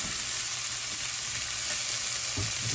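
Garlic, onions and peppers frying in a pan, with a steady loud hiss of sizzling throughout and a soft stirring knock near the end, close up, with no talking.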